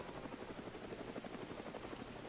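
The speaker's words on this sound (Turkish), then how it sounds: "Evet bugün de helikopter buluyoruz." A helicopter's rotor in the Roblox game Mad City thumps steadily in a continuous, dense drone, loud and unbroken throughout with no voices.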